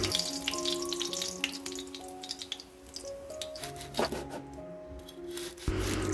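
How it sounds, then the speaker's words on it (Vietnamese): Tofu for a vegetarian braise fries in a pan with a constant close sizzle broken by crackling pops, while a melodic music track plays behind it. "Mình sẽ chiên cái phần tàu hủ này cho nó vàng lên nha cả nhà."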